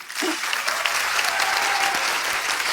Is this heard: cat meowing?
no